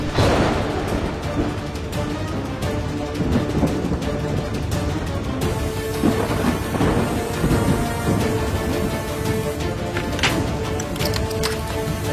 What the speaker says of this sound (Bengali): হয়তো মেঘ ডাকছে বলে আমার ঘুম ভেঙে গেল।